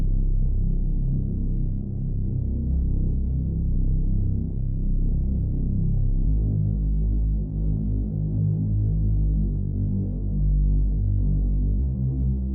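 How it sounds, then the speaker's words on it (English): A deep, throbbing synth bass for a rage beat plays a steady rolling pattern, low and full, continuing alone without any voices. "Next, we get a synth bass because you need those to make it sound a lot fuller and just deep"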